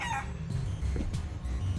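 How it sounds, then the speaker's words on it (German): A rooster crows, short and bright, then gives way to low clucking and rustling from fowl in the video game Guacamelee 2, moderately loud with no talking. "Da oben ist ein Huhn."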